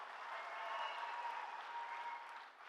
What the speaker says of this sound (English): So big round of applause to that team.